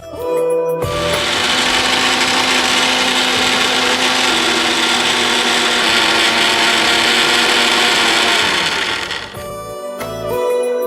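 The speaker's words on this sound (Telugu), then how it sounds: "Yeah, mixie పట్టేసుకుందాం." A mixer grinder blends soy milk into a thick milkshake, giving a loud, steady electric whir that runs for about eight seconds before cutting off.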